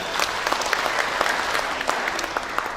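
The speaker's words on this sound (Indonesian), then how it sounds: "kita beri aplaus untuk Yanti" Audience at a university graduation thanksgiving ceremony claps in a dense, steady round of applause that fills the room evenly from start to finish.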